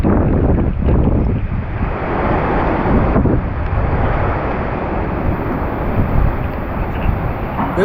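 Strong storm wind at sea off the Wadduwa coast roars continuously and buffets the microphone, with rough surf churning underneath throughout.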